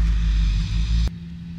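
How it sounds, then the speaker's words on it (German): An ultralight aircraft's engine roars steadily at full throttle for takeoff, a loud, close, sustained drone that drops abruptly in level near the end. "Gestartet wird mit Vollgas."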